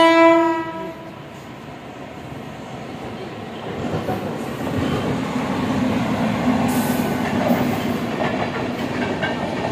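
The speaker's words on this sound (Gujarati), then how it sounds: "Kolkata Jaynagar superfast express." The Kolkata Jaynagar Superfast Express gives a short horn blast, then rolls past with a loud, steady rumble and rhythmic wheel clatter on the rails.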